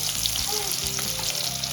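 Onion dropped into hot oil in a pan after eggplant has been fried, producing a loud, dense, continuous sizzle close up with no talk.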